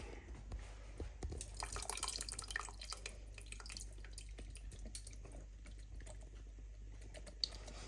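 Crab juice trickles from an opened can into a seafood chowder pot, a quiet run of irregular drips and small splashes over a low steady background hum.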